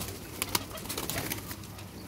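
An English-breed pigeon coos softly nearby in a steady low murmur, with a couple of brief sharper clicks early on.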